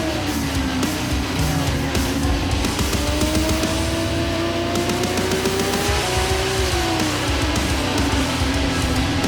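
Formula 1 race car in a racing video game, its engine whining loudly and continuously, rising and falling in pitch through shifts, with tire squeal and other cars droning close behind.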